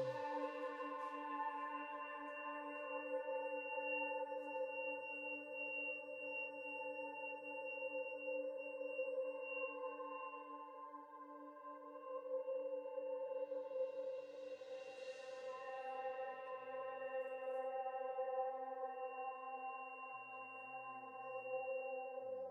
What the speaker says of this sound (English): There's extra machines with the power still on.